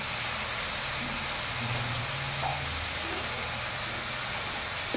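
Water poured onto cabbage and spices frying in a pan sets off a steady, broad steaming hiss that holds evenly throughout, close and fairly loud with no talk.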